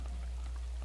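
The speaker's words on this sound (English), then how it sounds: "It's raining." Steady rainfall in the game Breath of the Wild, a dense, even patter of drops that holds at a constant level throughout the brief moment, with no voices.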